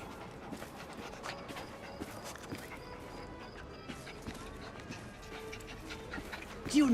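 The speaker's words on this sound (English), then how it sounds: "Charming dog." A dog in Assassin's Creed Syndicate pants steadily in quick, soft breaths, close but quiet, over a low murmur of street ambience and faint voices.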